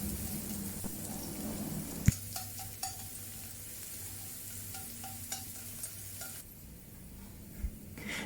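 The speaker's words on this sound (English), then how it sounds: "Now fry the thinly sliced garlic in the oil, medium heat until it turns golden brown." Thinly sliced garlic frying in oil over medium heat gives a steady, soft sizzle with occasional light clicks and taps of a utensil against the pan, continuous throughout.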